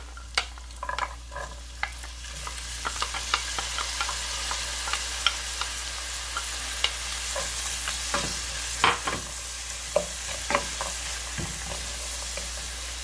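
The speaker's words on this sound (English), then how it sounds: "At this point, I am going to add a cup of frozen peas and carrots." Frozen peas and carrots stirred into shrimp fried rice in a pot, with a steady background sizzle and frequent sharp scrapes and clacks of a utensil against the pot, continuous and close, no talking.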